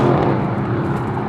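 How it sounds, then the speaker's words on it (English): Mercedes-AMG GLC63 S Coupé V8 engine heard on upshift, a steady loud engine roar that holds for a moment without a break or crackle. "Upshift sounds"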